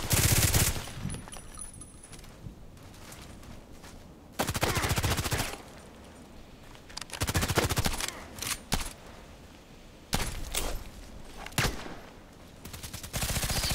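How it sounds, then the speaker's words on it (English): Bursts of gunfire from other players in a shooter video game, set around a Glock 18 loadout, crack out in several loud broadband volleys separated by quieter ambient stretches, with no talking. "Just hear the others shooting."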